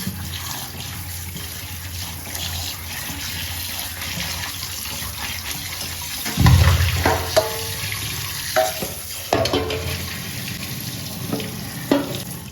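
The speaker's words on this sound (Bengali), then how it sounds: "তার জন্য মাংস পরিষ্কার করা চলছে, পরিষ্কার করে ধুয়ে নেব।" Raw chicken meat being washed by hand in water in a home kitchen, with steady running-tap wash and louder splashing and handling bursts from the middle onward, no talking.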